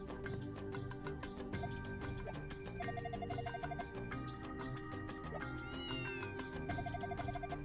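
A cat meows in the video game Ys I & II Chronicles+, the call sitting over steady, looping game music with no talk.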